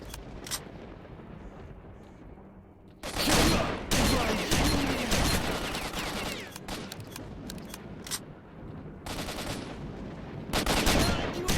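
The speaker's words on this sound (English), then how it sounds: "see how that guy was trying to shoot me through the brick wall and stuff?" Enemy gunfire in S.T.A.L.K.E.R. Shadow of Chernobyl, loud repeated bursts of automatic shots and single cracks in several clustered volleys, close and echoing over a low rumbling background.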